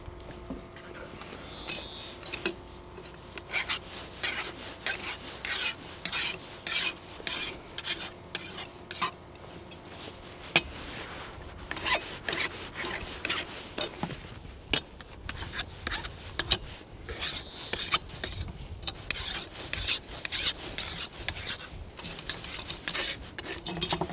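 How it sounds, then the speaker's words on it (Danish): Hand file rasping on a worn chainsaw chain during chainsaw maintenance, a long series of close, rhythmic scraping strokes in repeated bursts. "Til det bruger jeg den her fil."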